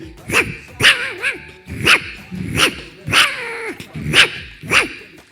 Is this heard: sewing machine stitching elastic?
no